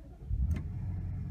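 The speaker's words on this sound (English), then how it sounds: "Cold start sounds really good in this car." A 2015 BMW X6 M engine cold-starts with a deep, close-up rumble and a brief rising burst. It then settles into a steady, low idle drone.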